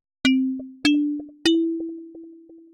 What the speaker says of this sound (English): I ended up going with the music box under piano,